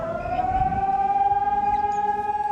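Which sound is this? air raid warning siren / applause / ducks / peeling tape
air raid warning siren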